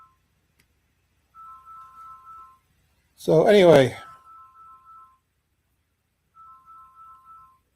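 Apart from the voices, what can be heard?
phone ringing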